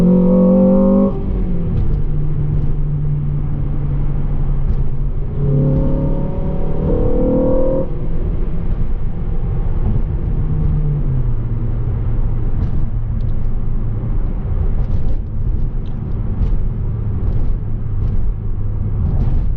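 A Honda Civic FN2 Type R engine pulls hard from second gear, its note climbing steeply in pitch, then dropping at a shift and rising again, loud and close from inside the cabin, later settling into a steady droning cruise.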